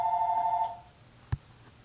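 Telephone ringing with a single short electronic tone, fairly clear and close, then a brief knock and quiet room.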